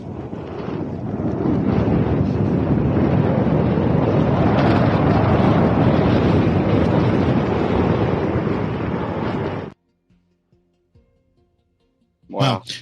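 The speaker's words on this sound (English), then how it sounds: "So it's pretty windy out there." Strong wind buffets a microphone on a fishing pier in Florida, a loud, continuous roar for most of the stretch before cutting off abruptly to near silence, followed by a brief faint sound at the end.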